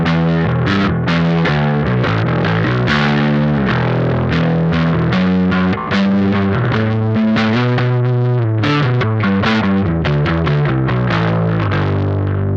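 An electric guitar runs through an Electrojunk CROSS//DISSOLVE pedal with its gain turned down, playing a continuous stream of driven chords and notes with a shimmering, mildly distorted, chorus-like texture.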